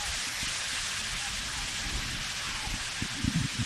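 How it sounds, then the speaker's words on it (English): Heavy rain pours down steadily over an outdoor women's football match at night, a dense continuous hiss with low thumps and rumbles under it, and no voices standing out. "as we see the rain returns with a vengeance"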